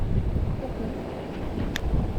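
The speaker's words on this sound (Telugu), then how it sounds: "విండ్ చాలా ఎక్కువ ఉంది" Strong wind buffets the microphone at a cold, rainy hilltop campsite, a steady broadband roar with gusty swells and no voices.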